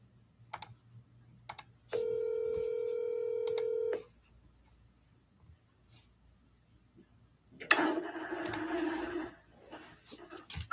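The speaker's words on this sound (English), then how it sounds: "let's see how this phone call goes" A phone being dialed to place a real estate follow-up call, with one short tone burst, a steady two-second dial tone, then a longer ringing tone that follows after a quiet pause.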